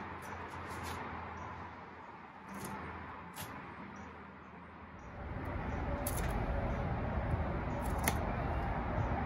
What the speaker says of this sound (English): I'm going to use my knob cutters and just break off the ends a little bit so that it's not that straight cut